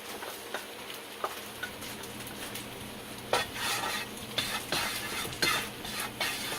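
Oil heats in a pan for an Indonesian dish, giving a faint, quiet sizzle under soft clinks and scrapes of utensils against cookware, with a few louder bursts near the end.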